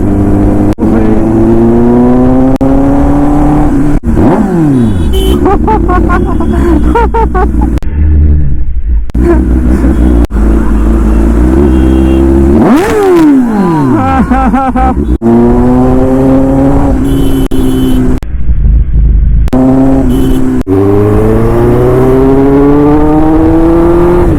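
A Kawasaki ZX10R motorcycle engine is throttled hard on the road, roaring up through repeated rising revs and sharp drops between throttle bursts, very loud and close for the whole stretch.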